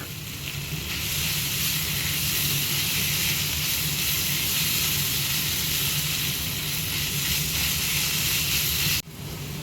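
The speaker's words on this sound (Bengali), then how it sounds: "এই মাছটা এবার অ্যাড করে দেবো, দিয়ে ভালো করে নাড়িয়ে চাড়িয়ে ভেজে নিতে হবে।" Fish fries in hot oil in a pan while being stirred, giving a loud, steady sizzle and hiss throughout that cuts off briefly near the end.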